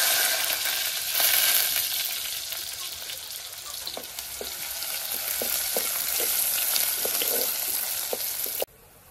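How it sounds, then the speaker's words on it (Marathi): Onion dropped into hot oil for a tempering, sizzling steadily and loudly up close, with light scraping taps of stirring through the middle before the hiss cuts off abruptly near the end; no voices. "मी आता कांदो फोडणीत टाकतोय."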